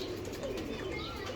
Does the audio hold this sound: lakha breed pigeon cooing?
yes